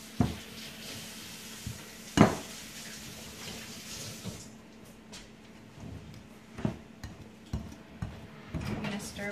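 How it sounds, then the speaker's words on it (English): A spatula stirs scone mixture in a bowl in a home kitchen, giving soft scraping with a few sharper knocks against the bowl, intermittent and fairly quiet over room background. "We're gonna stir with the spatula."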